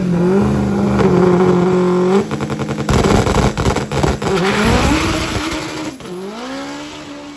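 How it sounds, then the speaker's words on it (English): High-horsepower front-wheel-drive car launching at a drag race, a loud engine holding revs then shrieking through rapid gear changes with stuttering bursts and fading as it pulls away down the strip. "Let's see if they can get the front wheel drive car to hook."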